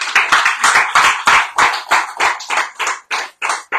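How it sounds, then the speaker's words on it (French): Hands clap in a quick, uneven burst of separate sharp claps, close and loud, from a few people during an evening radio bistro gathering, with no voices over them. "tous les vendredis soirs, on les applaudit"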